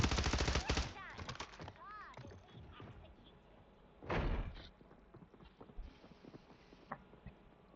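Gunfire in the video game Warzone 3 during a Plunder match: a rapid, loud automatic burst at the start, a second heavy burst midway, and scattered lighter shots, with game noise and talk throughout.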